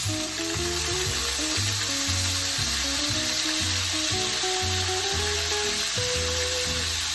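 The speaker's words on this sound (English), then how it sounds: "Look at it sizzling goodness, it's so good." Food fries in a pan after a drizzle of extra virgin olive oil and lemon juice, giving a loud, constant sizzle close up, with a repeating low rhythmic clatter of stirring or pan movement under it and no speech.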